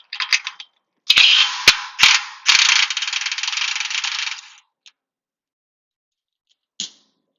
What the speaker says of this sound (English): First step is to remove this 1/2 inch nut.